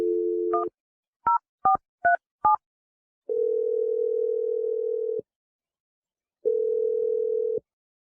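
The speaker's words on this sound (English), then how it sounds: "I'm going to dial Dave's phone number" Phone number being dialed on a telephone line: a steady dial tone, then five quick separate keypad tones, then two long ringback tones with a pause between them. No voices.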